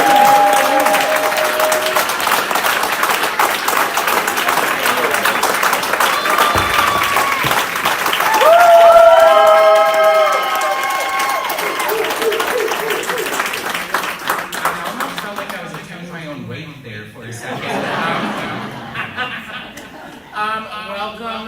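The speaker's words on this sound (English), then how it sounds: "what if we just give maybe a really big applause" Audience applause at a library reading of a Bigfoot-themed book, loud sustained clapping from a packed room that builds, then thins out near the end.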